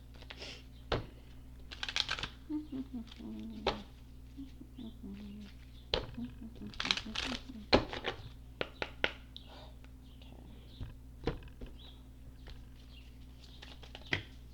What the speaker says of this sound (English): Just a few shuffles.